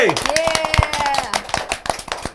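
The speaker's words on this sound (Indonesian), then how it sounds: "Berikan aplaus kepada RSUAD" Scattered, uneven claps from an audience at an Indonesian talk-show event honouring RSUAD ring out as sharp separate taps, mixed with a voice and tonal sounds throughout.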